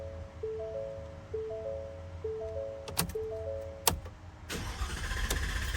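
A 2024 Ford F150's starter motor cranks in a few repeated bursts with sharp clicks, and the engine nearly catches before a rougher, louder mechanical burst at the end. There is no talk.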